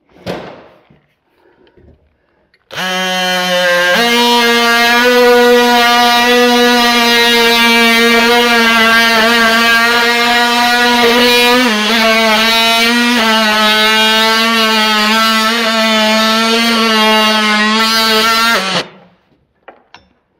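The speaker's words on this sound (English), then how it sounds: "This is an oscillating multi-tool." An oscillating multi-tool cuts a slightly overlapping piece during shop construction, giving a loud, steady high-pitched buzzing whine with a strong harmonic stack that runs unbroken for about sixteen seconds, alone and close.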